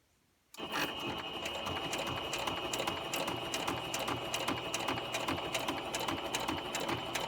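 A sewing machine starts up and runs steadily, its needle clattering in a fast, even rhythm while stitching fabric panels for a journal cover, close and unbroken with no speech.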